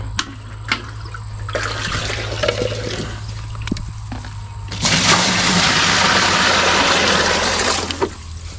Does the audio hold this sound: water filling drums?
yes